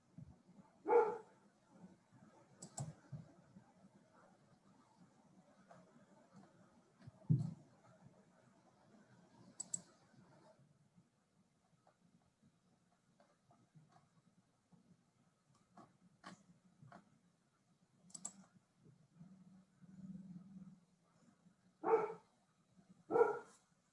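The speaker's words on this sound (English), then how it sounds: "Is that your dog, Rilda?" A dog barks intermittently in the background of an online panel call, scattered single woofs and short bursts spread across a quiet, faint room.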